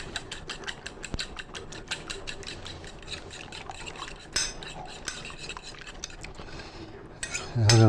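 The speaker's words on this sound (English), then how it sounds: "Going to slightly mix these up." Turkey meatloaf ingredients are mixed in a bowl, with a steady run of quick clicking and scraping strokes that stay close and fairly even, and no voices.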